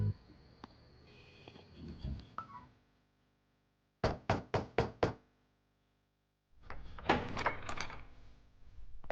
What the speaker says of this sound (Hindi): तू इतनी देर से दरवाजा खटखटा रहा हूँ, खोल नहीं रहा है।